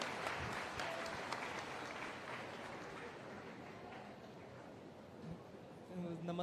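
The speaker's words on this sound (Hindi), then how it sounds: "जोरदार तालियां।" Loud, sustained applause from an audience at a Jaipur youth event with the Rajasthan Chief Minister, honouring a NEET topper; the dense clapping holds steady throughout, with a few voices mixed in near the end.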